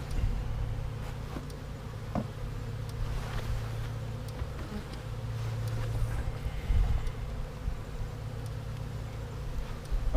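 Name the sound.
honey bees buzzing around hive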